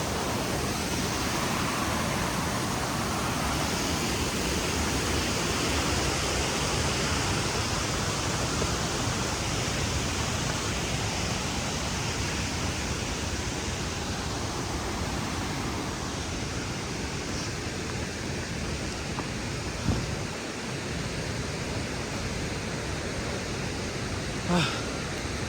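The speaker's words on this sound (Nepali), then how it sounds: "झर्ना खोला" Steady broadband rush of a waterfall stream on a rainy trek to Panch Pokhari in Sindhupalchok, loud and continuous throughout with a couple of faint knocks near the end.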